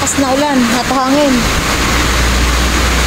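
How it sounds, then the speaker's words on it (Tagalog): Heavy typhoon rain and wind roar as a dense, steady wash of noise, and a voice speaks briefly over it at the start. "Ito na naman yung malakas na ulan at hangin."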